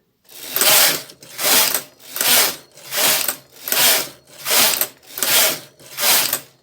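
A Brother hand knitting machine carriage sweeps across the rows while a seamless child's sock is being knitted. It gives seven or eight evenly spaced, ratcheting mechanical passes in a steady back-and-forth rhythm, close and clear with no talk.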